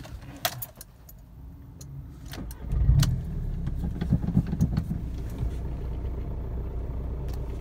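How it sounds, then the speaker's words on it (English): Keys jangle before the 2004 Volkswagen Jetta TDI wagon's diesel engine, fitted with a single mass clutch, cranks and catches, then settles into a steady, close, clattering idle. "That's still just the noise from it being a single mass clutch with a diesel that wants to have the dual mass."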